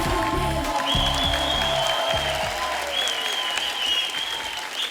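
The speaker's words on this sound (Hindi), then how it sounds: "मैं आप सबकी जोरदार तालियों के बीच इनवाइट करना चाहूंगा मिस्टर मनोज बाजपेयी साहब।" A studio audience on a Hindi comedy talk show breaks into loud, sustained applause to welcome a film actor, the clapping dense and even before tapering slightly at the end.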